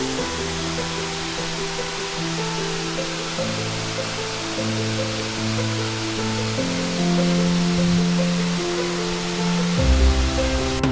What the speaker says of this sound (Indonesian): Sekarang kita berada di tepat air terjun Marian